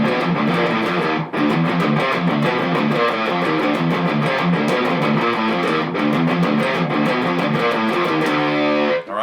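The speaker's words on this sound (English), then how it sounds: "And then right into the riff that sounds like this." Distorted heavy metal guitar riff played in 7/8 time, loud and dense with choppy repeating rhythmic stabs and full-band drive, running continuously with no talking.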